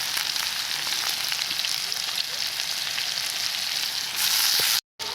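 Chopped garlic and onion fry in hot oil in a kadai with a constant, dense sizzle that grows louder near the end, then cuts off abruptly.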